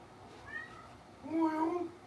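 A pet cat gives two meows, a short faint one followed by a louder, longer one, close by in a quiet room.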